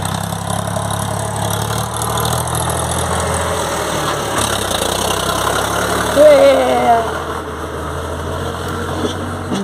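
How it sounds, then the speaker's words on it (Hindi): A tractor engine rumbles steadily nearby as it passes, a continuous low mechanical drone with a slight swell toward the end, while people talk over it. "बस आ गेलै रुकू ना कनी ट्रैक्टर के जा दियौ"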